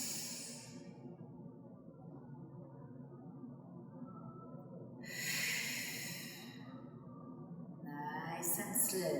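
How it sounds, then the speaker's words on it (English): Slow, deliberate breathing exercise for pregnancy, with long airy breaths drawn in and let out at a calm, unhurried pace, close and fairly quiet, with only the soft rush of air. "inhale for 1, hold it in for 1, 2, 3, and let it out"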